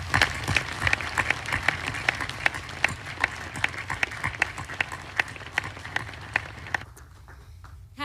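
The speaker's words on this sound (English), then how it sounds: "let's take a moment to give all those loved ones here a round of applause" Applause for military families at an Army War College keynote address: a sustained, dense round of clapping from a large audience that fills the room for several seconds, then drops off abruptly near the end.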